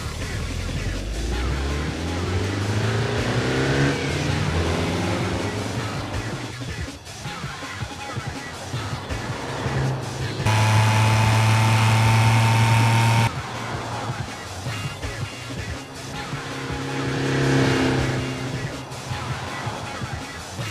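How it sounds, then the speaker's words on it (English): A van accelerating off the line in a quarter-mile drag race, the engine note climbing at first and then settling into a steady, moderately loud drone with a brief brighter burst midway. "First up, a simple quarter-mile drag race."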